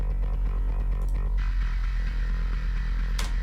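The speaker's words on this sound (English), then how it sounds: "It's got a lot of sort of nice grunty sort of distortion to it." A gritty, overdriven bass guitar plays a sustained low line with a thick, fuzzy grind, steady and fairly loud with no voices.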